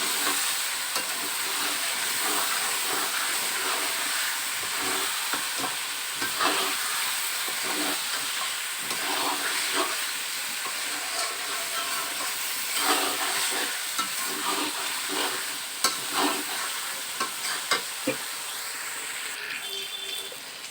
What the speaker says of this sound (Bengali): চিকেন এবং মশলাগুলো নাড়িয়ে নেব।